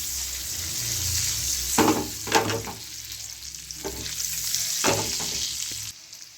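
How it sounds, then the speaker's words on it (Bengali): Spices with turmeric and chili powder stirred in a frying pan for a Bengali duck egg curry, a steady sizzle with several scraping spoon strokes close by, no talking. "দিয়ে আবার ভালো করে নেড়ে নেব"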